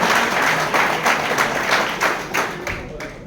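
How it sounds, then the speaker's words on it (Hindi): An audience at a Constitution Day celebration bursts into applause, a dense, loud wash of clapping in a pulsing rhythm, with a voice faintly present beneath it. "सभी लोग एक बार जोरदार तालियों से सबका स्वागत करते हैं।"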